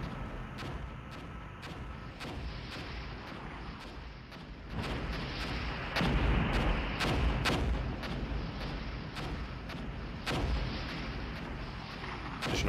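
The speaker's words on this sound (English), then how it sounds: "Additional artillery incoming." Artillery fire in the Soviet campaign of the Armored Brigade war game: a steady barrage of booming shell impacts and blasts, some near and loud, others more distant, repeating at irregular intervals over a constant rumble.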